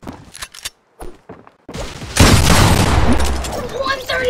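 A loud burst of video game gunfire from a building match, sustained and dense after quieter scattered taps and thumps, with a voice briefly heard earlier.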